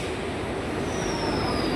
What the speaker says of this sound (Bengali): আরে দেখো এদিক দিয়ে আরেকটা ট্রেন আসছে